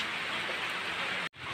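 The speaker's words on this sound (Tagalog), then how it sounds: "Napakalakas ng ulan." Steady, dense hiss of heavy rain pouring down, broken by a brief dropout near the end.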